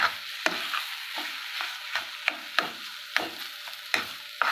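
Beetroot for chutney sautés in a pan, a low sizzle punctuated by a rhythmic series of scraping stir strokes, roughly one or two per second, close and clear with no talking.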